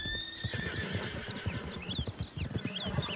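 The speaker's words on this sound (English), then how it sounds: "And wild horses?" Wild horses in Red Dead Redemption 2 whinny and neigh repeatedly over a steady patter of clip-clopping hooves, the calls rising high and sharp above continuous ambient game sound.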